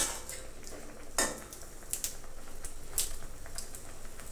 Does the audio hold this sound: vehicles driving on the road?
no